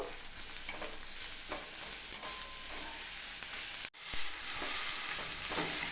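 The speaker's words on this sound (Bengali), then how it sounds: "আদা রসুনের পেস্ট দিয়ে একটু ভালো করে কষিয়ে নেব" Onion with ginger and garlic paste is stirred and fried in a pan, giving a soft steady sizzle with scraping stir strokes and one brief dropout partway through.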